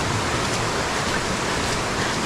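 Floodwater rushes after a sudden downpour in Konkan, a dense, steady broadband roar that fills the whole moment without a break, close and loud with no voices over it.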